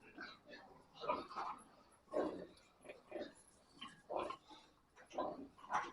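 Yorkshire piglets grunting and squealing in a series of short bursts, fairly close, with faint background noise between calls.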